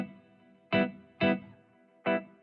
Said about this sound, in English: I'm pretty much high passing and adding a little bit of reverb to these chords.